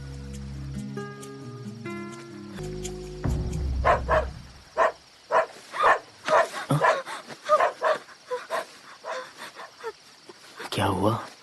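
A dog barks in a string of sharp, repeated yaps up close after a short musical intro, with rustling around it and a brief voice at the end.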